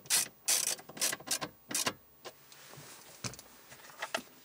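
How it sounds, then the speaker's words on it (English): A nut is screwed back into place by hand during a car stereo upgrade in a Peugeot 108, Toyota Aygo or Citroën C1, giving a run of close, quiet ratcheting clicks and metallic scrapes in short bursts that fade toward the end. "grab the nut that we've unscrewed and screw it back in"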